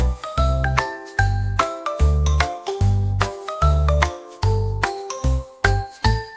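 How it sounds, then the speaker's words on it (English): Bright jingling bell tones in a cheerful children's nursery-rhyme song, ringing in repeated bursts over a bouncy melody with steady bass beats and no voices. "making bells ring."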